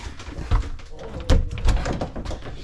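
Doors on a Keystone Cougar fifth wheel RV bang shut in a few dull thunks, close and fairly loud, with faint room noise between.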